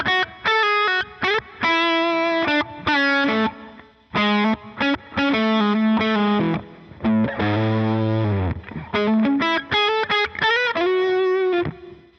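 Distorted electric guitar with chorus runs through major 7th arpeggio patterns up and down the fretboard. Notes are picked in quick, clear sequences with short pauses between phrases, and no one talks.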